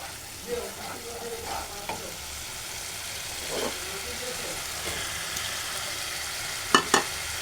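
Shrimp frying in cooked-down spice paste, a low steady sizzle with intermittent scraping and stirring clatter, two sharper utensil knocks near the end.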